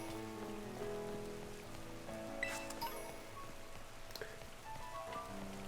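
Rain falling in the Pokémon Scarlet game, a steady soft patter of drops on surfaces under a tonal music bed, with a few brief brighter sounds mixed in.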